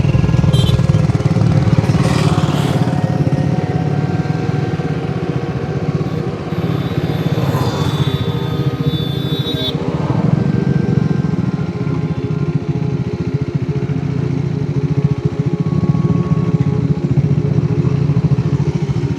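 Steady engine drone of a Triumph Scrambler motorcycle being ridden on a road trip in Tamil Nadu, loud and close throughout with some clattering and wind, no talk.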